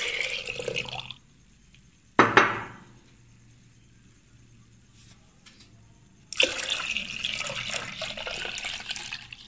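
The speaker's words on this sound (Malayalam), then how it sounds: "നമുക്ക് ഇതിലെ വലിയ ഭരണിയിൽ തന്നെ നമുക്ക് ഈ കൂട്ട് വീണ്ടും ഒഴിച്ചിടുക" Grape wine mixture is poured into a large jar in two bursts of liquid splashing and gurgling, separated by a sharp clink and a quiet pause.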